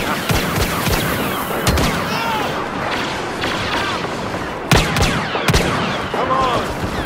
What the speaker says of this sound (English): Blaster's hot!